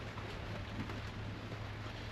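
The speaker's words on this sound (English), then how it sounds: "it is raining quite hard." Hard rain falls in a steady, dense hiss with no breaks, faint and continuous throughout, with no voices.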